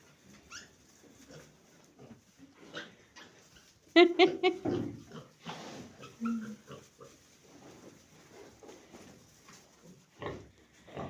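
Close snorting grunts from tame pigs, clustered in a short burst in the middle, with softer snuffling and quiet talk around them.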